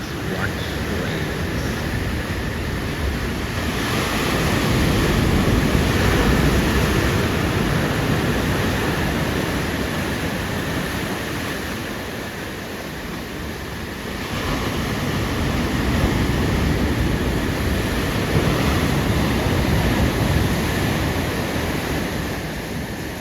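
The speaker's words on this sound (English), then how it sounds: "I just like to stand right here at this spot and just watch the waves" Ocean surf rolls steadily onto a beach, with broad swells of wash and a constant wind-blown hiss, loud and close.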